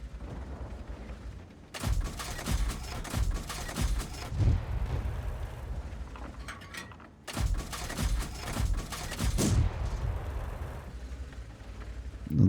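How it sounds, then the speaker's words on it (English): Tank guns firing in World of Tanks, two heavy booming shots several seconds apart, each followed by a rumbling, crackling tail over steady engine and battle noise, with no talking. "I'm just going to blind fire this bush."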